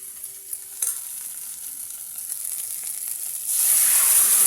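Boiled vegetables hit hot spice paste of ginger, cumin and chili, giving a steady loud sizzle with occasional stirring scrapes that swells into a stronger, brighter hiss near the end.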